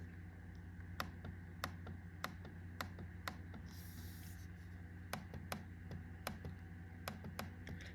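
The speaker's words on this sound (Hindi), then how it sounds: "और अभी मैं यहाँ पर इसका क्लिक चेक करता हूँ कि क्लिक इसका कैसा है।" A Lenovo LOQ laptop touchpad is clicked over and over, giving sharp, faint, close clicks at uneven intervals over a low steady hum.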